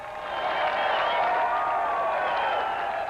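Elated crowds cheering and clapping at the newly opened Berlin Wall in 1989, a sustained roar of many voices with whistles and shouts, dense and continuous throughout.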